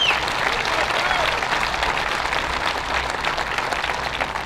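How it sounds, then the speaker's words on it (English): Crowd applause for Jeff and his course maintenance crew at the Staal Foundation Open golf tournament closing ceremony, with steady, sustained clapping from a sizable gathering and a faint whistle at the start. "So a big round of applause for Jeff and his crew."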